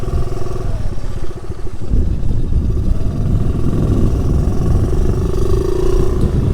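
A Honda Navi motorcycle's small engine runs steadily through the ride, a close, continuous rumbling drone that builds slightly as the bike gets under way.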